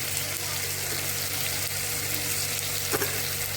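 Potatoes, chopped tomato, salt, turmeric and spices fry in a pan, giving a steady, close hiss of sizzling oil with faint stirring scrapes, and a brief clatter near the end; no one speaks.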